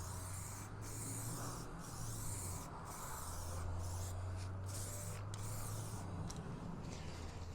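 Spray nozzle misting primer onto the metalwork of a 1/6 scale RC Armortek Jagdpanther G2 tank, a series of soft hissing bursts separated by short pauses over a low steady hum, faint and close.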